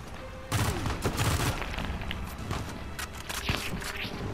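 Gunfire in the video game Uncharted 4: a dense burst of rapid shots and booms, then scattered single cracks with footsteps and clatter underneath, fairly loud and close.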